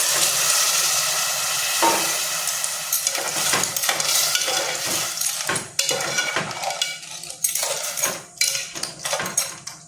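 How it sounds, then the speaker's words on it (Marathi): Potato and drumstick pieces sautéing in a pan, sizzling and hissing while a utensil repeatedly scrapes and clatters against the metal in uneven bursts, close and fairly loud with no talk. "बटाटा आणि शेंग टाकून परतून घेऊया"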